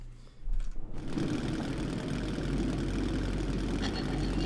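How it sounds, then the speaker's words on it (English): A railcar engine in Metro 2033 Redux runs with a loud, steady, buzzing mechanical drone that starts up after a brief rumble and continues unbroken. "Stop the engine!"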